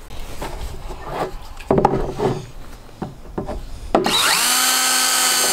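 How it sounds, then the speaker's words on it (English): A power drill whirs up into a steady high whine as it bores a hole, following several seconds of scraping and clunking handling noises. "we're just gonna drill a hole right here in the tip"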